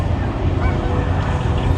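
Canada geese on the water honk repeatedly during migration, a busy flock chorus under a constant windy rumble.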